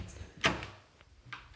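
A door opens to an ensuite in a rented house, a sharp close click or thud followed by softer rattling and a second muffled knock, close by in a quiet room.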